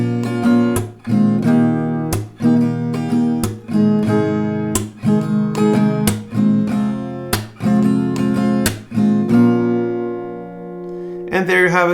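An acoustic guitar plays a chord progression in a repeating strumming pattern punctuated by sharp percussive clap-like hits, loud and close, ending with a softer ringing chord.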